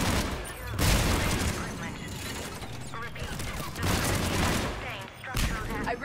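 Automated turrets in the Mass Effect video game fire dense, continuous volleys of energy gunfire, a loud rattling barrage that surges and briefly dips over several seconds amid battle noise.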